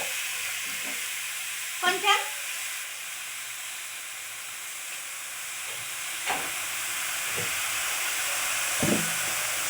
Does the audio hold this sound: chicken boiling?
yes